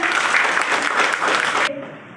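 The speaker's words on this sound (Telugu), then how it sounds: "నిజంగా శైలజ గారికి చప్పట్లు కొట్టినమ్మ." An audience claps for Shailaja in a loud, close, dense burst that runs strong for well over a second, then stops sharply, leaving a quiet room tone with faint murmuring.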